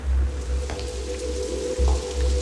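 Steady rain falling as a sound effect in a radio drama, a continuous close hiss of drops with a low rumble underneath, even and unbroken throughout.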